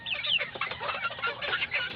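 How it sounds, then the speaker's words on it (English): A healed chicken that once had a broken leg clucks in a rooftop garden, quick close clucks and chatter running steadily through the moment. "This is a chicken with the broken leg that was given me by the agri vet store cashier."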